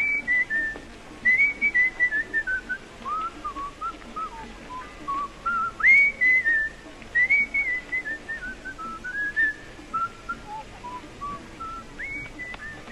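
A man whistles a wandering, melodic tune alone, the phrases rising and falling in short bursts with brief pauses between them.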